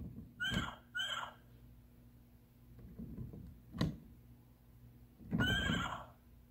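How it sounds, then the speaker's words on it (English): A horse toy from an Old MacDonald farm set neighs in several short, bright whinny bursts, close and clear with quiet pauses between them. "Here's the horse."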